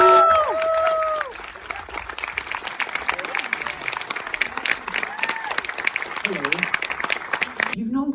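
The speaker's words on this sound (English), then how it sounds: "A round of applause just for Richard Linklater" An audience applauds Richard Linklater at a live film podcast event, broadband clapping filling the room while several voices call out and talk over it throughout.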